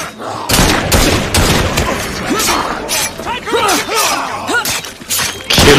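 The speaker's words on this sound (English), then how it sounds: "Fire your weapons!" Gunfire in Assassin's Creed Syndicate, with repeated sharp volleys of shots crackling loudly in quick bursts over shouting voices and scattered impacts.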